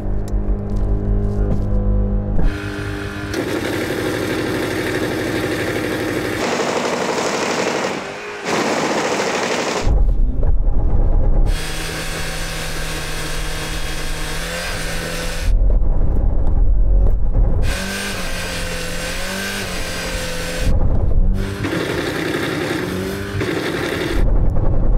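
A Mercedes car engine runs in gear and revs hard in repeated loud bursts, rising and falling, with brief near-silent gaps between surges.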